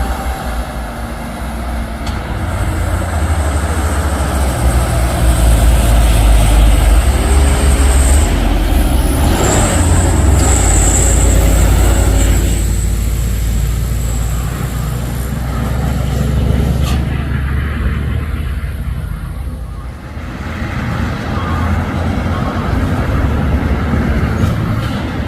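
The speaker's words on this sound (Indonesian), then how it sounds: "Truk sayur ada 3 unit." Three vegetable trucks drive past on a hill road with a deep, sustained engine rumble and road roar. The sound swells and fades as they pass close by, with a higher whine and a few clanks on top.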